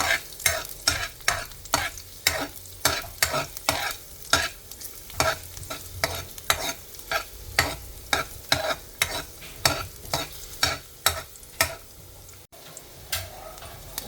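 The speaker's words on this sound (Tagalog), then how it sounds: "Igisa ko na yung ating garlic." Garlic sautéing in olive oil in a home kitchen for a pumpkin, pork and moringa dish, a steady sizzle broken by a regular run of sharp scraping stir strokes, close and fairly loud, with no talking.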